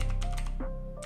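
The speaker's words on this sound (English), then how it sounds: "We will do it by typing nano" Keys clatter on a computer keyboard as a nano command is typed into a terminal to edit a Tor configuration file, a quick run of close, light clicks lasting about a second with no voices.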